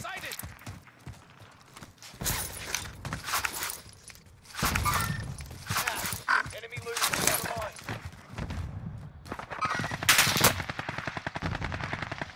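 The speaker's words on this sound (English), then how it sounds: "I'm getting shot and don't know what to do with that." Video game gunfire crackles in bursts of rapid automatic shots and single cracks, some near and loud, others lighter, while players talk over the action throughout.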